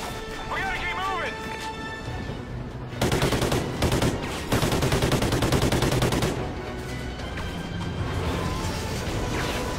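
Rapid bursts of gunfire in Call of Duty: Ghosts crackle over background music and game effects, with a couple of heavier crashes in the middle.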